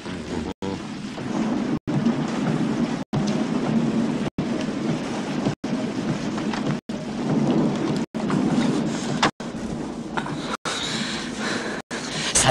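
Heavy rain pours steadily with rolling thunder in a dense, constant roar. It stays loud and unbroken apart from a few brief cuts.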